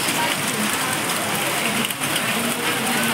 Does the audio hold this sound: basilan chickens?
no